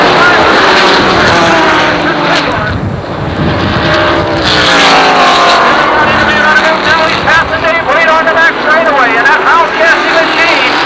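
Late model stock cars race at Jennerstown Speedway, engines roaring loud and continuous as the field strings out in a line, with a commentator talking over the noise throughout.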